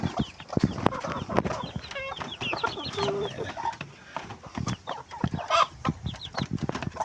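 Chickens of part Texas breed cluck and chatter busily in a new farm enclosure, close and lively, with scattered rustling and thumps and a person talking intermittently among them.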